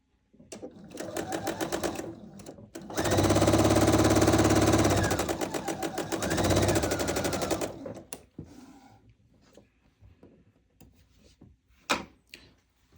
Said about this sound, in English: I'm going to sew that long diagonal edge